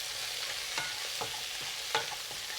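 Prawn shells and heads fry in hot oil for a Singapore prawn and pork noodle soup, giving a steady close sizzle with a few soft scrapes and knocks as they are stirred.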